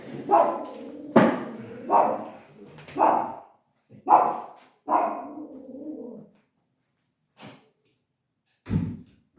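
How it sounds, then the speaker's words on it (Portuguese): A small female dog barks in short bursts, five loud close yelps in quick succession followed by a pause and two fainter, sparser barks, with no talking. "Eu tenho aqui uma cadelinha"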